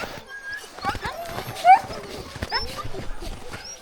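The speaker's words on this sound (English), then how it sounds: "The dogs wanna go." Sled dogs eager to run on a winter trail, whining and yelping in short excited bursts at moderate distance, mixed with rustling and clatter of gear.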